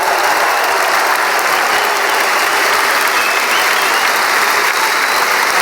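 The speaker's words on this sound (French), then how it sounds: "je crois que nous pouvons applaudir ensemble le grand Mozart" A large crowd at a political rally in Paris breaks into dense, steady applause, loud and continuous with no pause throughout.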